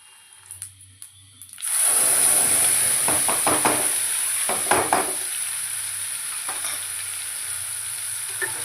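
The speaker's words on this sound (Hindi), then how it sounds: "और फिर लगाती हूँ तड़का।" A tadka of asafoetida and cumin hits hot oil in a kadhai and bursts into a loud, bright sizzle after a quiet start. The hiss holds steady, broken by crackles and stirring clinks.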